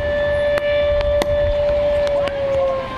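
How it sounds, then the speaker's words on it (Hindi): A barrage gate warning siren at Kota Barrage drones on one sustained tone for the whole stretch, with a few sharp clicks and knocks and low background rumble. "मैं रुक करके आपको सायरन सुनाने की कोशिश करता हूं, आप सुनिएगा"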